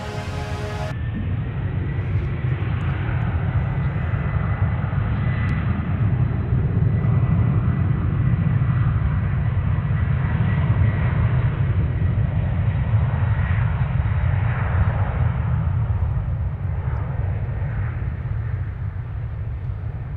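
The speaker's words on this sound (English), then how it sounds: "we got a 767 departure here" A Boeing 767 jet departing DFW airport gives a steady, loud low-frequency roar that holds for the whole stretch and swells slightly toward the middle with broadband rumble.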